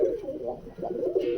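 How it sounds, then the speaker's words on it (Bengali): High-flying pigeons coo in low, soft, rolling phrases close by, several throaty swells repeating over a second and a half, with faint background noise. "ছাড়লে ঢুকে যাবে আগে, হাই ফ্লাইং পয়রা তো।"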